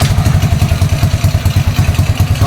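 A motorcycle engine idles close by, loud and even, with a fast rhythmic thumping that holds steady throughout.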